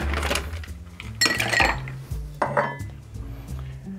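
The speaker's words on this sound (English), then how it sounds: "we're gonna add some ice to this" Ice goes into a tequila sour with a few loud clattering rattles against the shaker or glass, separated by short pauses, close by and with no voices.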